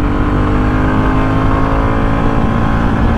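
A 2023 Royal Enfield Bullet 350 motorcycle pulls hard through its gears, its engine a loud, close, continuous droning thump with no break.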